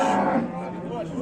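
A docile cow at a sale lets out a single drawn-out moo, close and fairly loud, lasting about a second with no other voices.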